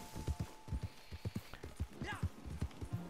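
A pinto Foxtrotter horse clip-clops in Red Dead Redemption 2, with a quick, steady run of close hoofbeats and a faint voice speaking over it.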